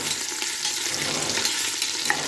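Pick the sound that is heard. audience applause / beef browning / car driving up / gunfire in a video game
beef browning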